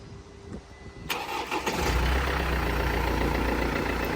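A wrecked Mercedes-Benz bought from a Copart auction cranks and starts nearby, then settles into a loud, steady, gruff idle that runs on without a break.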